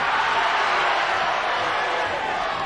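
Steady roar of a large wrestling crowd at a 1978 Mark Rocco versus Mal Sanders semi-final bout, a continuous wash of cheering and noise at even loudness with no clear breaks.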